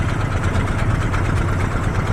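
A trawler boat's engine idles on a river trip, a steady low rumbling drone with a rapid, even throb, close and loud with no talking.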